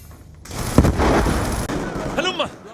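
Bursts of heavy gunfire from a video game soldier in Black Ops 2 ring out between shouted voice lines, and a short rattle of shots sounds near the end.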